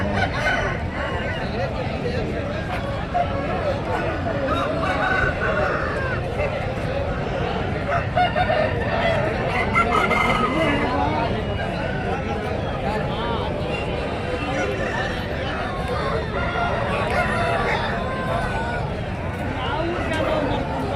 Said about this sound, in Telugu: పుంజులు అయితే ఎక్కువ ఉన్నాయి